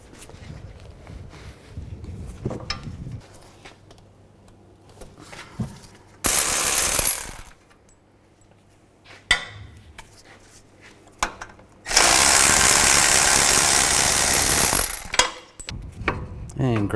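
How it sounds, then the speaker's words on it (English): Volkswagen Jetta caliper bracket bolts being loosened with a 21mm socket: two loud sustained bursts of an impact or power tool, one short and one longer, between quieter clicks and handling of metal parts, with no talking. "Use a 21mm socket, take these two caliper bracket bolts out."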